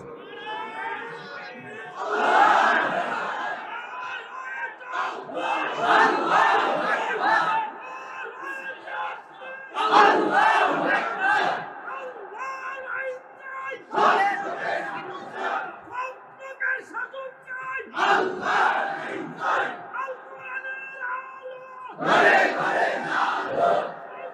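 Crowd at a religious gathering chanting slogans in loud, repeated bursts, roughly every four seconds, with brief pauses between shouts; voices are massed and close, filling the space.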